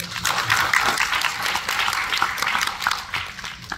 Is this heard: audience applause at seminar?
yes